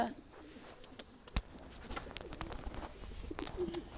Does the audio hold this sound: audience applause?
no